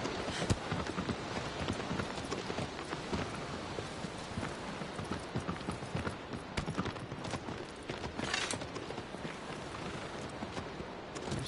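Horse hooves clip-clop steadily across a broad, noisy wash of sound in Shadow of the Colossus, with a regular galloping rhythm under rain-like hiss and no voices.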